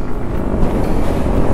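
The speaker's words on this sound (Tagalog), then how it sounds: "Sobrang hangin naman dito." Strong wind blasting across the microphone outdoors on a stop in Tagaytay, a loud, continuous low roar with no break.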